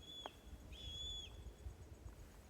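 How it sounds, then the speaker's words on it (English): Faint, thin descending screeches from red-tailed hawks sound in the distance, a short cry followed by a longer drawn-out one over a low background rumble. "You're listening to the cries of some red-tailed hawks"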